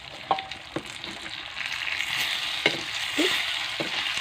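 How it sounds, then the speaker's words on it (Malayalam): Curry leaves dropped into hot oil for a Kerala-style fried snack, giving a steady close crackling sizzle with a few sharp pops and stirring scrapes, no talking. "ഇതിലേക്ക് നമുക്ക് കുറച്ച് കറിവേപ്പിലിട്ട് കൊടുക്കാം"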